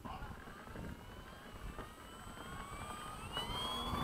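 A Flightline 1600mm Corsair RC model warbird's electric motor and big propeller whine steadily as it takes off, a continuous rising tone with rotor buzz that grows slightly louder and nearer toward the end.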